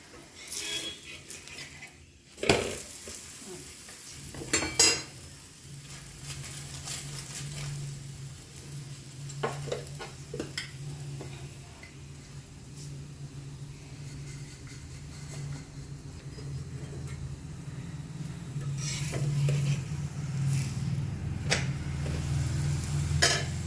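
Paratha frying in ghee in a pan: a steady low sizzle that grows louder and fuller over time, with occasional clinks and scrapes of a utensil against the pan near the start.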